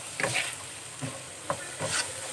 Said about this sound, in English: And then give this a good mix.